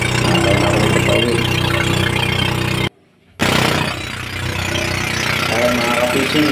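A fishing boat's engine runs steadily on a trip home, a loud chugging mid-low drone that cuts out briefly and then resumes, with someone talking over it.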